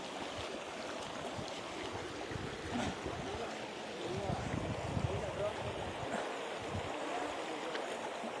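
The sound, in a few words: people wading across a shallow river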